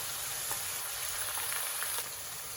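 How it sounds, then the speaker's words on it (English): Garlic cooking in a pan gives a steady, soft sizzle with faint crackles throughout, close and even, with no talking. "I'm just going to cook the garlic until it releases the flavor."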